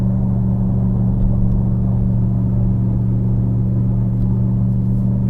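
A Ford Super Duty pickup with the 7.3 Godzilla engine pulls uphill while towing about 6500 lbs on a mountain road, giving a steady, loud low rumble and drone with no talk over it.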